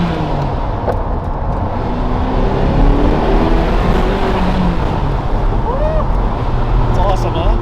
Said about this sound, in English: did you hear the turbo noise and you weren't expecting that, were you?